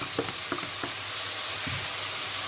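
Chicken pieces frying in a pan of oil for egg fried rice, a steady close sizzle with a few soft stirring knocks and no talking.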